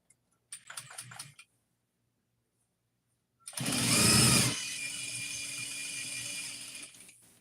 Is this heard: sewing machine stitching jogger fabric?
yes